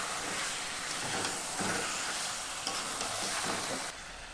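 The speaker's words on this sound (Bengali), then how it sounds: "দেখুন এখানে মাংসটা কষা হয়ে গিয়েছে" Chicken frying in a pan with cumin and coriander powder, a steady close sizzle with faint stirring scrapes running through, moderately quiet and without speech.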